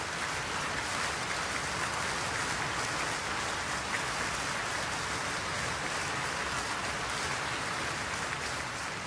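A concert audience at a performance by pianist Nobuyuki Tsujii claps for an encore, a dense, even wash of applause that holds steady throughout without voices.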